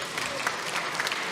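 Brief scattered clapping from visitors in the public gallery of the National Assembly chamber, a light patter of hands over a murmuring room with a voice underneath.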